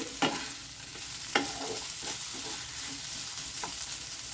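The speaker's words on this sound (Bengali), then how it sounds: "সব কিছু বেশ ভালোভাবে একটু নেড়ে চেড়ে নিচ্ছি" Rice cooked with banana blossom and fried potato pieces is stirred in a pan over a constant sizzle, with a few sharp scrapes of the spoon against the pan.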